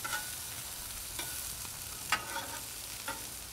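Bacon fries on a Blackstone griddle, a faint steady sizzle broken by a few light scrapes and clicks of a spatula, with no talking.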